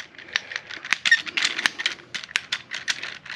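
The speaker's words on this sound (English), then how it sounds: "if you hear that clacking in the back, in the audio, it's this foot" A selfie stick's foot clacks in a quick run of sharp, dry clicks and rattles, uneven in rhythm and close by. The clicks sound with no speech over them.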